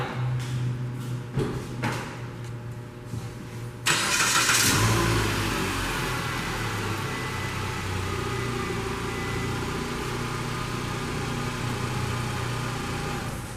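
A 2015 Mitsubishi Outlander Sport GT cranks and fires up after a few faint clicks and knocks, then settles into a steady idle that runs close and even for the rest of the clip.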